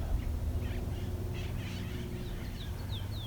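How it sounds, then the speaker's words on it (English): Distant wild parrots squawk in a few brief, scattered calls as they fly by over a steady low background rumble, faint and far away. "Got some wild parrots flew by."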